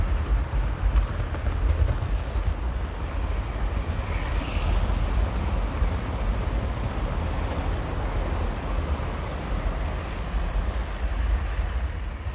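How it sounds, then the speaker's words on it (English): Model train diesel locomotive running on a layout, a steady rumbling drone with faint high whine, continuous and moderately quiet throughout, with no voices. "Pretty good diesel noise"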